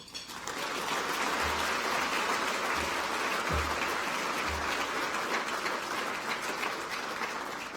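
Sustained applause from an audience greeting Reserve Bank Governor Dr Philip Lowe before his closing-remarks speech: a continuous, even wash of clapping that holds at steady volume for several seconds with no voices over it.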